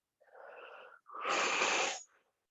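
Two slow breaths taken during a yoga stretch with a resistance loop: a softer inhale lasting under a second, then a stronger, breathy exhale, both close and alone with no talking.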